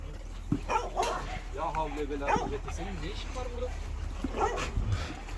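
Small dogs yip and bark in short bursts, mixed with whimpering, while a person talks nearby over a low steady hum.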